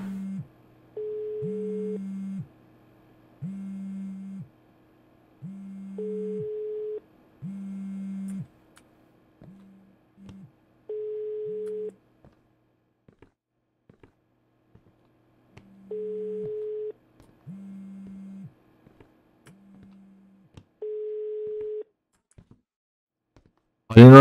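A phone rings somewhere nearby in a horror video game, repeating electronic ring tones in regular bursts with short pauses between them across a quiet room, with faint ticking underneath.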